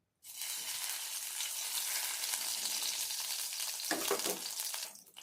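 Ghee heats in a pan over a gas flame, a dense bright sizzle that starts abruptly, holds steady for several seconds, then flares briefly and fades, with no voices.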